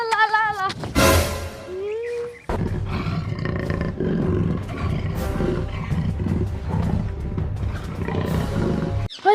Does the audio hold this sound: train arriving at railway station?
no